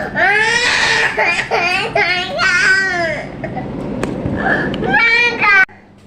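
A young child crying and wailing in bursts, interrupted by an adult talking, with sobbing phrases rising and falling close by.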